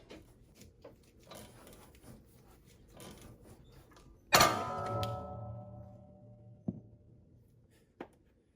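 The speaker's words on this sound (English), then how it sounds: "we're going to start to crank down on this until it breaks free" A puller kit is cranked on the upper ball joint of a third-generation Toyota 4Runner, giving ratcheting clicks and creaks, then one sudden loud bang as the joint breaks free, a ringing metallic decay, and two later sharp knocks.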